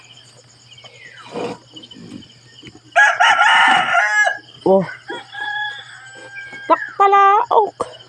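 A rooster crows loudly nearby, with hen clucks and chirping insects around it while rice bibingka is made over a fire in Quezon province; a voice briefly exclaims.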